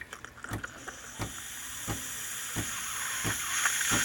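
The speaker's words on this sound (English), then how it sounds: "it'll actually pour out with water at first, but that'll slowly just convert over to steam" Coffee maker steam wand releasing steam, a rising steady hiss with repeated sputtering pops as water gives way to steam, fairly faint and without talk.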